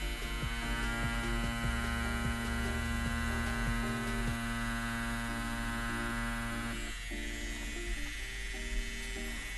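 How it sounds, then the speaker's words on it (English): An Axys Valhalla tattoo machine runs at 8.5 volts, giving a steady, close electric buzz with a tonal hum that shifts slightly partway through and carries on without pause. "you could definitely tell that this is a quality tattoo machine"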